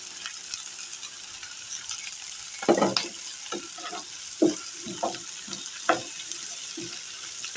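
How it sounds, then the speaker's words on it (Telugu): Fresh coconut and chopped onion frying in a pan, a soft steady sizzle broken by several louder stirring scrapes and clatters, close by and without speech. "మనం వేసుకున్న ఉల్లిపాయ పచ్చి కొబ్బరి తురుము చక్కగా ఫ్రై అయిపోయాయి"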